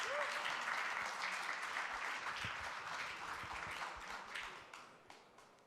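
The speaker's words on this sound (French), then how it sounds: "On peut l'applaudir." An audience applauds at a CPES dental diploma ceremony, honouring the top graduate of the class, with dense, sustained clapping from a large room that slowly tapers off.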